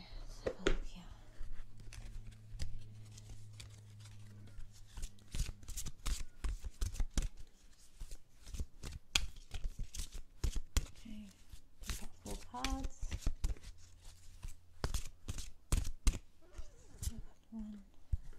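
A tarot card deck is shuffled in quiet, close, irregular bursts of crisp riffling and soft slapping, with a faint low hum underneath and a few soft vocal sounds.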